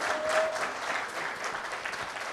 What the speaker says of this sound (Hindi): तो सीमा जी के लिए सबसे पहले हम ज़ोरदार तालियां बजाना चाहते हैं।